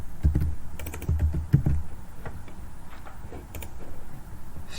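Quick bursts of computer keyboard typing and clicks come in short clusters, fairly close and crisp, with a couple of quieter keystrokes afterward over a faint room hum.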